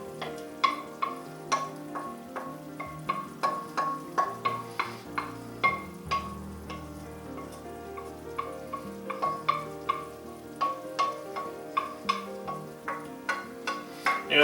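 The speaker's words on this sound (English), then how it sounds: "so now I need to put my roux. We're going to stir it right in here" A spoon stirs roux into a pot of beer cheese soup, giving repeated soft scraping taps against the pot at an uneven rhythm, close by and moderately loud over a faint background.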